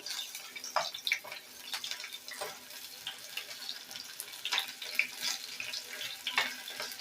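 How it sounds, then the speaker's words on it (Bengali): Crispy battered onion rings sizzle in a pan of oil as they are turned, giving a fairly quiet, steady hiss dotted with frequent irregular crackles. "একইভাবে আমি সবগুলোকে ভেজে নেব"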